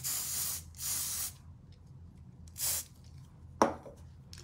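Self-tanner sprayed from an aerosol can in several close, loud hissing bursts of about half a second each, separated by brief pauses, with a sharp click and short rattle near the end.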